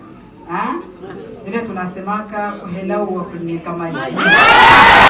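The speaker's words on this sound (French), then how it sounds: "Devant une foule en liesse" A voice carries over a gathering of jubilant supporters, ending in a sudden loud surge of crowd cheering and shouting.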